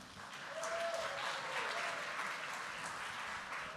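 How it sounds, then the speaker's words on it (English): Guests at a wedding reception applaud steadily for a few seconds, a dense wash of clapping heard from across the hall, moderately quiet and unbroken, with a brief tone near the start. "A big round of applause."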